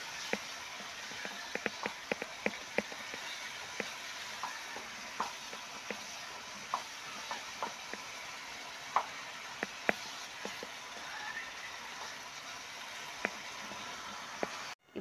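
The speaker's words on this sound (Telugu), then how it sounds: "టమాటో కానీ ఆలుగడ్డ కానీ మంచిగా ఫ్రై అవుతున్నాయి" Tomato and potato paste frying in oil for a South Indian style rajma curry gives a steady soft sizzle, with frequent sharp spatters and pops scattered throughout, close and without voices.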